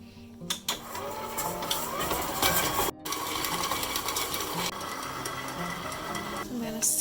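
Electric mixer creaming butter and sugar for blueberry muffin batter, a loud whirring drone close by with a brief stop partway through, and a voice talking over it.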